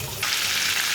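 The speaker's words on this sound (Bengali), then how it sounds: "একদিকে ভাজা হয়ে গেল, একটু উল্টে দিব।" Chicken pieces frying in a pan for chicken fry, a close, steady hissing sizzle that swells suddenly partway through and holds loud to the end.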